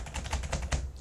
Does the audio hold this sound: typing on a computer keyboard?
yes